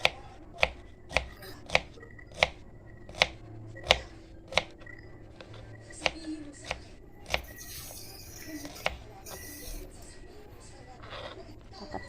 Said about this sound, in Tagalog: Ganito lang ako mag-slice.